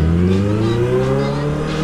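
A Kawasaki Z800 motorcycle engine revs loudly and continuously, its tone rising steadily as it accelerates up close.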